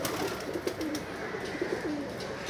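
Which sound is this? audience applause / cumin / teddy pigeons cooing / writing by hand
teddy pigeons cooing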